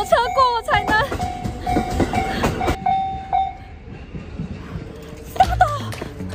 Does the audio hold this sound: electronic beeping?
no